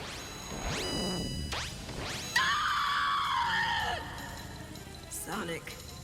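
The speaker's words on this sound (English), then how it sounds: "that one episode, Sonic's Nightmare, Jesus, that scream." A drawn-out cartoon scream from the Sonic SatAM episode "Sonic's Nightmare", loud and rising, set among whooshing effects and then a voice that cries out briefly near the end.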